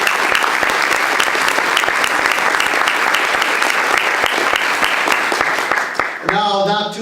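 A general assembly audience in a large hall breaks into loud, sustained applause with sharp individual claps throughout; near the end it thins and a voice speaks briefly.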